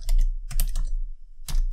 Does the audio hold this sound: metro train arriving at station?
no